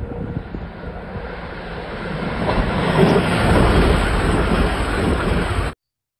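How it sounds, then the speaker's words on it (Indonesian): A toy high-speed train plays a recorded train sound: a loud, steady rumbling and rushing rail noise with faint clicking swells toward the middle, then cuts off abruptly near the end. "Di sini ada kereta cepat."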